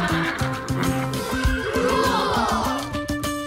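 A horse whinnies in a long, wavering neigh over a busy background of cartoon-style music, with hoof clip-clop and faint voices mixed in nearby.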